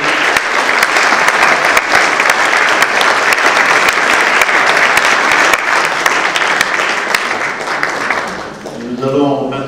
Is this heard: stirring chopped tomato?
no